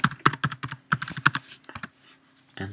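Rapid clicking keystrokes on a computer keyboard as a search term is typed into a forum search box, a close, irregular burst of taps that slows and stops, then one final key press.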